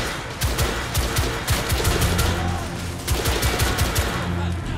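Rapid bursts of rifle and automatic gunfire in The Order 1886, a fusillade of sharp cracks repeating through the whole stretch at steady loudness, with no one speaking over it.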